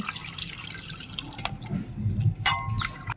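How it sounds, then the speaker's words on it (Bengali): Taro being rinsed in water, with irregular drips and small splashes close by over a low background rumble, including one brighter splash near the end. "কচুটা একটু ধুয়ে নিচ্ছি"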